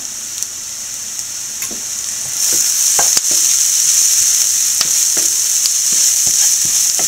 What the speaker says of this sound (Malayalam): നല്ലപോലെ വഴന്നിട്ടുണ്ട് പച്ചമണം മാറുന്നിടം വരെ വഴറ്റിയാൽ മതി